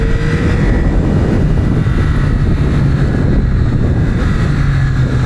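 A 2025 Yamaha R9 motorcycle engine at speed on a racetrack, a loud continuous drone mixed with heavy wind rush, held at a steady pitch with no talk.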